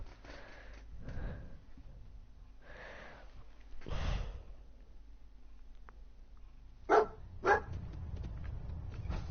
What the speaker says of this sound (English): My dog's back.